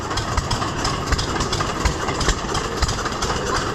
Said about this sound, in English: corn sheller